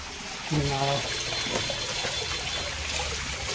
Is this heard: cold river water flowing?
yes